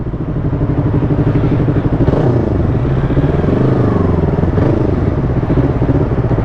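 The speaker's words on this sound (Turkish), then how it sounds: "Harbiden manyak bir motor." A new motorcycle's engine revs hard while riding, a loud, continuous, close roar with rising and falling pitch as it climbs through the revs, with no talk over it.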